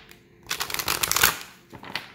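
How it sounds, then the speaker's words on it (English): A deck of oracle cards is shuffled by hand, giving a quick burst of riffling and flapping card noise that swells, fades briefly, then returns for a short final flutter. "I'll get another good shuffle."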